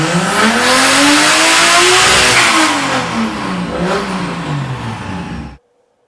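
Car fitted with a GTX3584RS turbo revving hard on a dyno: loud engine notes climb and fall through several pulls, then the sound cuts off abruptly near the end.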